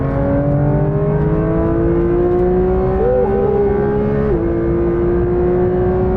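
A 2023 Porsche 911 GT3 RS 992 engine pulls hard on an open road, its steady high-pitched howl rising through the revs with a brief shift near the end, loud and close throughout with no talking.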